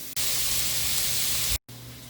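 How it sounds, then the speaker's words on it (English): Chicken pieces browning in a hot pan, a steady loud hissing sizzle that cuts out briefly near the end and then resumes. "We're just going to brown them on each side."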